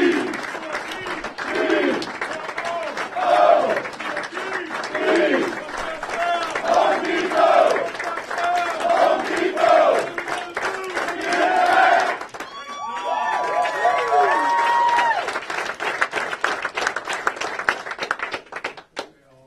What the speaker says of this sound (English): They're going to send us out with a cheer